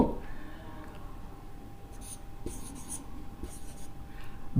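Writing strokes scratch in short bursts of quick marks during a chemistry lesson, close and fairly soft over quiet room tone.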